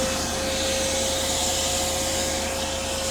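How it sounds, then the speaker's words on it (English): A vacuum cleaner plugged into a Ford 6.7 Powerstroke plow truck runs loud and close, cleaning salt from a wire harness, its motor holding a steady high whine over a constant airy rush. "vacuum here on the truck, plugged into the truck."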